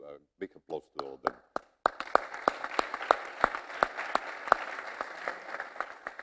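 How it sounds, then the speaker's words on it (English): Conference audience applauds the session's speakers, scattered claps starting after a brief spoken remark, then building into sustained, fairly close clapping with distinct sharp hand claps standing out. "I will give, together with you, a big applause to all of them."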